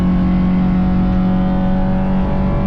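A race car engine drones loud and close at steady high revs through the whole stretch, holding a strong even tone during a wheel-to-wheel race at The Bend circuit.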